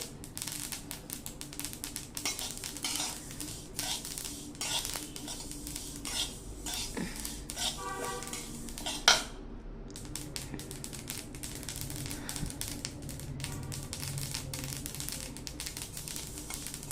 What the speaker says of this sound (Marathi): तीळ छान उडतात, भाजायला लागले की तडातड उडतात।